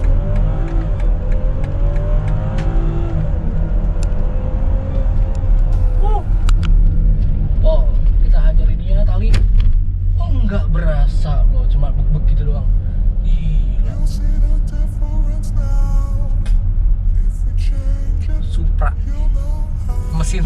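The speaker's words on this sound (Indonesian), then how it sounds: "Kita coba tes mesinnya dulu ya. Ini kan mesinnya B58" A BMW X7 seven-seater AWD SUV with the B58 inline-six engine accelerates hard, its engine note rising steadily as it pulls through gears, heard loud and close from inside the cabin with someone talking over it.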